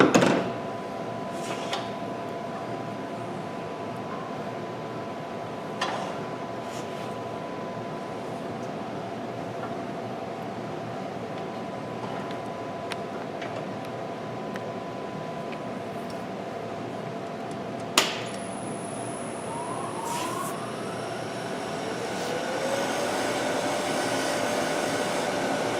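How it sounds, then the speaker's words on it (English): A wood lathe at a woodturners' club meeting demonstration runs with a steady broadband whir while a skew chisel cuts plain lines into the spinning piece, with a few sharp knocks and a rising tone near the end. "cut some plain lines in between with the skew, like so"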